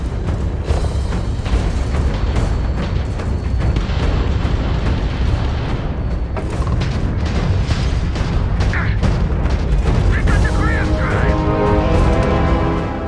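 Space combat in Starfield as an enemy ship is destroyed: a dense, loud wash of booming blasts and crackling bursts that rumbles continuously throughout, with scattered sharper pops and game effects layered on top.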